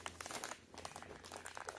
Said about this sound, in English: I'll just rip it.